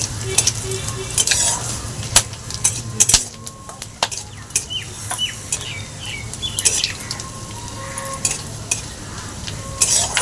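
Whole garam masala sizzles in hot oil for a vegetarian khichuri, with sharp crackles and a spoon clinking and scraping against the pot in irregular bursts, close by, with no voices.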